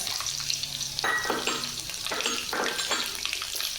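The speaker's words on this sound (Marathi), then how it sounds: "आता जिरे मोहरी पूर्ण अशी कडकडीत भाजून होऊ द्यायची झाल्याच्या नंतर त्याच्यामध्ये आपण लसण घालून घेऊ" Cumin and mustard seeds crackle and sizzle in hot oil with garlic, a close, continuous frying hiss broken by sharper pops and spatters.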